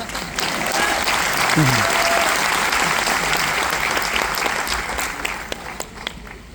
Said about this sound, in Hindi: बात पल्ले पड़ी तो तालियां एक साथ बजा लो।